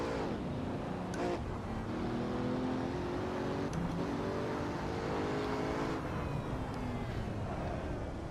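Racing car engine in the Assetto Corsa game revving steadily upward through the RPMs with rising tones, held at a fairly quiet level throughout; no talking.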